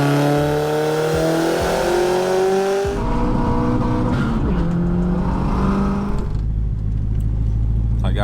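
A 1.8T Mk2 car engine revs hard on a dyno, its loud, close tone climbing steadily in pitch before dropping off and settling into a lower, rougher drone.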